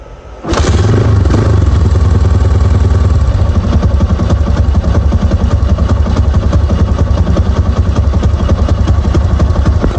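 A Yamaha motorcycle fitted with its stock CDI starts up and runs loud and close, a steady rattling engine drone holding from the first second to the end with no voices.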